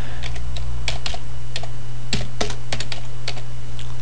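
Computer keyboard being typed on while entering SAS code, close and loud irregular clicks and key taps in quick bursts with short pauses, no voice.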